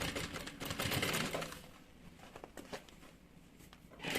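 A sewing machine stitching a straight seam along the side of a trunk-style bag, running in a burst of rapid needle clatter, then quieter intermittent ticks and handling, then another short run.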